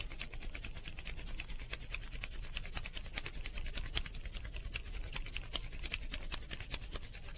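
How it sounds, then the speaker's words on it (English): Palms rub vigorously together during a yoga warm-up, a close, continuous rapid swishing friction with a steady back-and-forth pulse that runs unbroken throughout. "We will vigorously rub our palms together."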